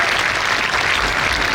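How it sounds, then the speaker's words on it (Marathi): A crowd at a school gathering applauds a student's prize of a certificate and cash award, the clapping dense, steady and sustained throughout, with no voices over it. "जरा जोरदार टाळ्या वाजवायच्या"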